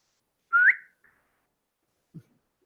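A single short, rising whistle from a person, clear and close in an otherwise quiet space, followed by a faint soft thud.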